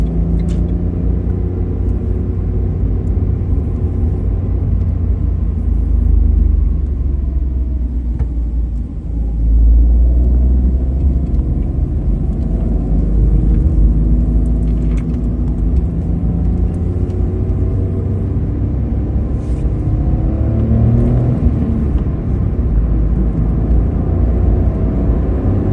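The 0.9 TCe 90 engine of a 2017 Renault Clio IV rumbles steadily from inside the cabin as the car accelerates, a loud continuous low drone mixed with road and wind noise, with no voices.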